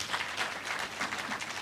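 Crowd at a political rally for a by-election candidate clapping, a moderate, fairly distant patter of many hands sustained throughout, no speech.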